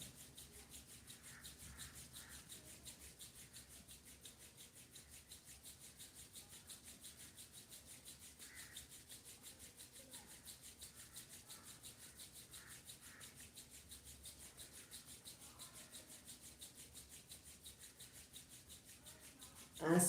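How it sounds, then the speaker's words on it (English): Palms rubbed briskly together in a steady, even rhythm during a breathing and meditation practice, a soft, close dry friction sound that continues without pause. "when you start rubbing your palms, it helps you for the excretion process"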